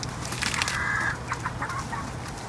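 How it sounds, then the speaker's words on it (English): A roughly nine-week-old broiler-breed rooster gives a short, thin crow near the start, followed by chickens clucking in several brief, close bursts on a backyard homestead. "That is our rooster. So he's only about 9 weeks old, and he started crowing already."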